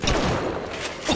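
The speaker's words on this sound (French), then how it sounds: "Le fusil à pompe dans ta bouche." A pump-action shotgun fires in the video game BioShock, with a loud boom and a thudding blast sounding close over busy game noise in a short burst.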